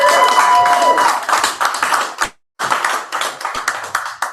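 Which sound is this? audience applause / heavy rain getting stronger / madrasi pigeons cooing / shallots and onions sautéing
audience applause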